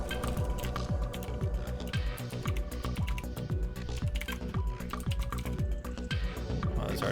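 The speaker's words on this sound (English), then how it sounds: "Plenty of typing." Fast typing on a computer keyboard while playing the hacking game Hacknet: quick, close clatters of keystrokes in a steady busy rhythm that runs without a break.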